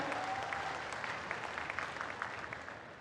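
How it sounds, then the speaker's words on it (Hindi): Audience applause at a tribal community gathering in Jhabua, Madhya Pradesh, addressed by Prime Minister Modi: dense, steady clapping from a large crowd at moderate distance, continuous throughout with no speech over it. "जोरदार ताली बजाएं, अभिनंदन करें।"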